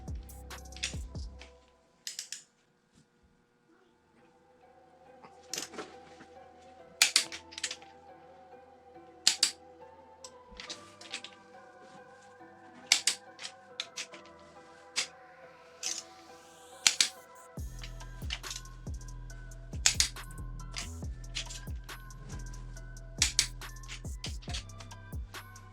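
Torque wrench tightening ARP head studs on a 4G63 six-bolt DSM engine, a series of sharp, isolated clicks spaced every second or two against a quiet workshop background with a low hum in places.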